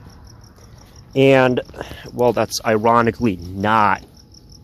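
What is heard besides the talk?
crickets chirping outside at night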